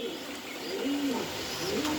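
Pigeons on a farm coo in soft, rounded low calls, a few drawn-out coos rising and falling over a steady background hiss, with no talking.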